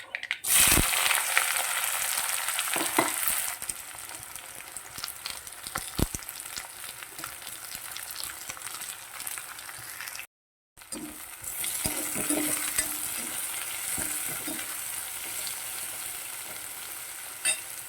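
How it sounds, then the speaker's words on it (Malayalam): Chopped onions frying in a pan for egg curry, a loud continuous sizzle with occasional stirring clicks and a brief dropout partway through. "അരിഞ്ഞു വെച്ചിരിക്കുന്ന സവാള ചേർക്കാം"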